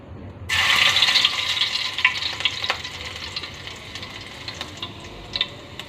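Chopped garlic hits hot oil in a pan with a sudden loud sizzle, then a steady crackling hiss that slowly eases, with light stirring scrapes and clicks throughout and no voices.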